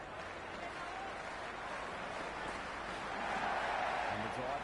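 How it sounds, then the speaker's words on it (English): Large stadium crowd at a T20 World Cup cricket match between India and the Netherlands, a steady broad roar of cheering and noise that swells louder toward the end, with faint commentary voices underneath. "this crowd is already making it hard for me to be heard"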